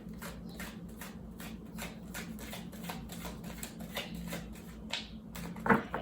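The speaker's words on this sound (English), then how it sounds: "Okay, I'm going to shuffle" Tarot cards are shuffled in quick, soft riffling flicks up close at low volume, with a few sharper taps and slaps near the end.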